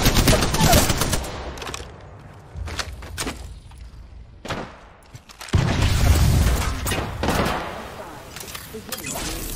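A frag grenade detonates in Apex Legends amid heavy gunfire, with booming blasts and rapid shots layered over one another, loud and chaotic throughout with voices partly buried in the mix.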